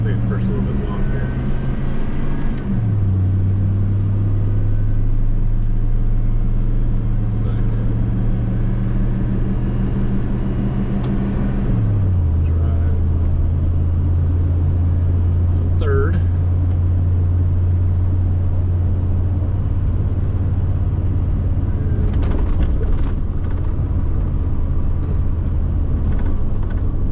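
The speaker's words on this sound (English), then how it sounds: "Shifted to first, just making sure it goes through all the gears." A 1994 Ford car engine running steadily, its low hum stepping down in pitch as the transmission shifts through the gears, with faint voices at times.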